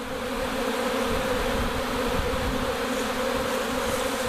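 Honey bee swarm fanning as it enters a box, a dense continuous close-up buzzing hum that stays steady throughout.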